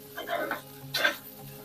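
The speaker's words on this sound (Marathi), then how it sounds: "पुन्हा आपल्याला हे सर्व जिन्नस तीन ते चार मिनिटासाठी चांगले मीडियम गॅसवरती परतून घ्यायचे आहेत" Grated coconut, ginger and garlic sautéed on medium gas, two brief bursts of spatula scraping with soft sizzling in a short, quiet stretch.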